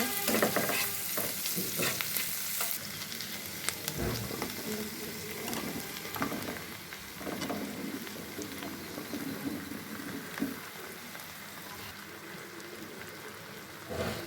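Chopped onion and green chillies fry lightly in oil for an aubergine fry, sizzling steadily up close while a utensil scrapes and stirs through them in irregular strokes.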